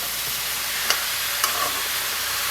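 Bottle gourd greens mixed with a hot oil tempering of browned onions give a dense, steady sizzle, with two soft stirring clicks.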